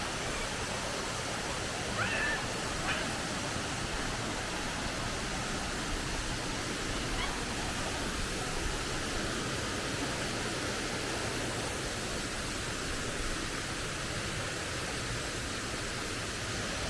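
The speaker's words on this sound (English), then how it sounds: "Look at that waterfall." A waterfall in Bohol, Philippines pours in a constant, dense rushing roar that stays steady and fairly close throughout, with no voices heard.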